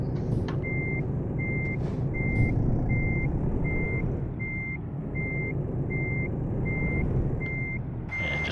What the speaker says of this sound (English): I might be able to pull right through here and back it up